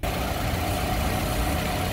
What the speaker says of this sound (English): Here's your engine compartment of this 10-year-old Vibe. Nice and clean, purring like a kitten.